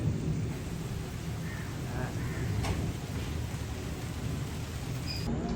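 Steady rain falls in Lahore, a dense, continuous wash of noise heard close by that holds an even level throughout with a few faint knocks.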